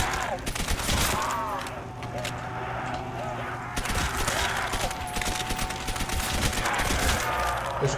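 Gunfire in World at War Zombies, fairly slow repeated shots amid dense game noise and moaning, loud and continuous, with someone talking over it.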